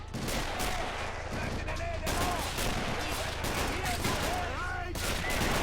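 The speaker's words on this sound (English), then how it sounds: "MG already firing." Machine gun and battlefield gunfire in the World War II strategy game Men of War: Assault Squad, during a Battle of the Rhine skirmish, dense continuous bursts and booms with voices mixed into the din.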